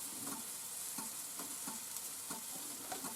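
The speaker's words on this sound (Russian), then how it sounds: "Надеюсь, слышно, как шварчит." Steady sizzle of meat rolls frying in a pan, with a crackling hiss, punctuated by regular soft clinks of stirring, close and continuous.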